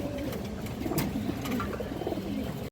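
Kaldom pigeons coo in a noisy loft, their low soft rolling calls blending into a dense background hum without clear separate phrases.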